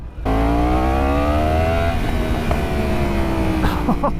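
A 2016 Yamaha R1 sport motorcycle revs hard and close, its engine note climbing steadily in pitch as a loud, continuous howl for several seconds.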